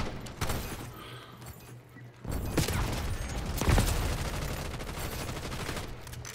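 Shotgun blasts ring out in a Call of Duty-style video game, loud bursts and a heavy mid-clip volley over a dense, continuous roar of battle.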